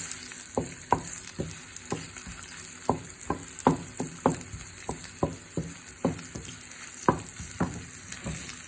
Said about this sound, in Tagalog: Okay, ngayon manggigisa na tayo. Ayan, yung sibuyas.